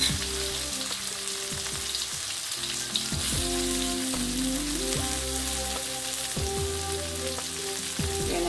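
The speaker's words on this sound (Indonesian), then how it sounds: "Langsung aja saya tumis cabai, bumbu-bumbu yang telah saya goreng kasar ya." Chili and coarsely fried ground spices sizzle steadily in hot oil in a pan as they are stir-fried, a dense, continuous crackle with scattered pops and occasional scraping from stirring, heard alone without talk.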